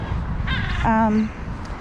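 A single harsh caw from a crow at an evening feeding, rising then held, over a steady background murmur that sounds like people talking.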